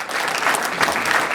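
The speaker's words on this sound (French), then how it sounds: "on applaudit très fort" Dense, steady applause from a large family audience of about eighty people at a sixtieth birthday celebration in Montreal, sustained and fairly loud throughout the short burst.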